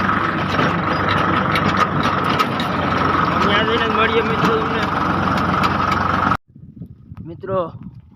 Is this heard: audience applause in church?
no